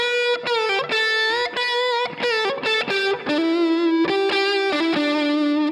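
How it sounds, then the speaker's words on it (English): Distorted electric guitar solo following chord changes with chord tones, a run of sustained and bending notes with brief breaks between phrases, loud and close with no talking. "This is an example of like playing over chord changes."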